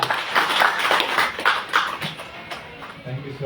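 An audience at a DXN business gathering claps to welcome a senior star diamond member onto the stage, producing uneven bursts of applause that fade somewhat toward the end.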